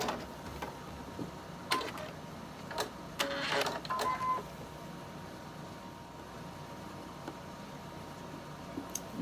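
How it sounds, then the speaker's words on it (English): A sewing machine stitches over existing thread on quilt block fabric and runs off the edge, a brief faint mechanical whir and ticking that stops, followed by quiet. "And then I just sew over the thread that's there and just come off the edge."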